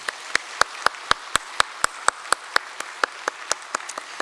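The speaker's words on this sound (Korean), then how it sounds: "우리 새 가족들 박수로 환영하겠습니다." Church congregation clapping in unison to welcome new members, sharp, evenly spaced claps at a brisk rhythm that run steadily throughout with no talk.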